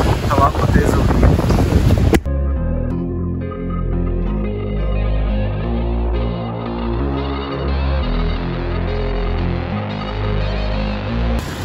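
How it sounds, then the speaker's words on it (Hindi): Strong gusting wind buffeting the microphone outdoors during a heavy snowfall storm, a loud roaring rumble that runs almost unbroken and follows a brief burst of other noise at the start. "हवा को तेज़ हो रही"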